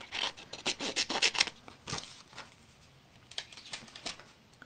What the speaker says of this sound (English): So I'm just going to cut out a piece.